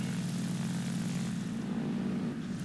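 A Grumman F8F Bearcat propeller fighter in the War Thunder video game, its engine a steady, continuous drone with a low-pitched throb, heard alone throughout.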